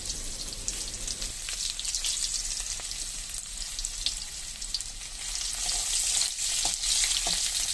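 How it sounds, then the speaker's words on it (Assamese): Onions sizzling and crackling steadily in hot oil, a dense close hiss that grows a little louder toward the end, with occasional soft stirring ticks. "এতিয়া পিঁয়াজখিনি অলপ ভাজি লওঁ।"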